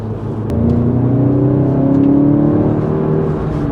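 A VW Golf GTI Clubsport S, a front-wheel-drive hot hatch, accelerates hard on the GP circuit, its engine note climbing steadily in pitch as it pulls through the gear, loud and close from inside the car with no talk.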